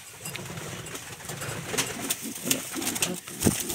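Carneau pigeons cooing softly on their nest in a breeding loft, low repeated coos with a few brief sharper calls and rustles, fairly close and steady throughout.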